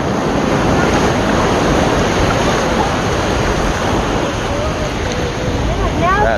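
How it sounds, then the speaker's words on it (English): Atlantic Ocean waves break on the shore at Atlantic City, New Jersey, a loud continuous roar of surf mixed with gusty wind buffeting the microphone. "The ocean!"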